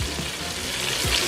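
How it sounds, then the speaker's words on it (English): Dark Indian curry powder hitting hot oil in a pot for curry duck, a loud close sizzle with a few quick stirring scrapes. "We are going to drop in some curry to burn."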